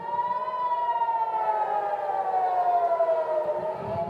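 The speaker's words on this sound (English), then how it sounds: "That's the sound of the sirens going off." Air raid sirens wail a steady, slowly falling warning tone for incoming missiles, sounding moderately distant and continuous with no talk over it.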